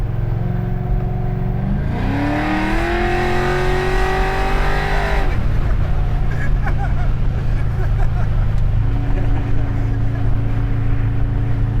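A 1968 Chevelle muscle car accelerates with a loud, rising engine roar that peaks, then breaks off. It settles into a lower, steady rumble as it drives on, with some faint voices in the background.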